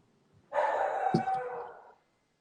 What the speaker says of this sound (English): I can't focus because of the barking.